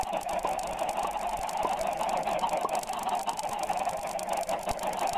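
Chicken-like clucking and fowl calls repeat in quick irregular bursts over a steady background in the Minecraft video game, with no talking.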